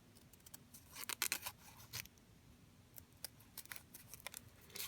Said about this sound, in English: we are going to cut a circle